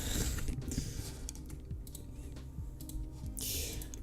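Quick, uneven keystrokes on a computer keyboard, a patter of light clicks close by over a low background hum, with a few louder taps scattered through.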